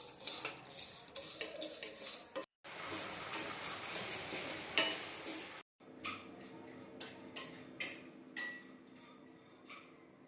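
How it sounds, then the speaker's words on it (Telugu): Spices for moringa leaf chilli powder frying in a pan, dry ingredients such as dried red chillies, tamarind, cumin and garlic, with repeated scraping and stirring strokes over a sizzle in three stretches split by brief silences. "మునగాకు కారంలోకి అన్నీ వేయించుకున్నాను"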